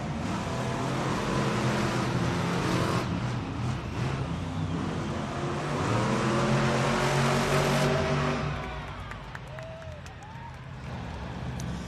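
Monster trucks racing in an indoor arena at a Monster Jam event in Lincoln, Nebraska: loud, sustained engine roar that swells and then drops, with a crowd and arena noise beneath.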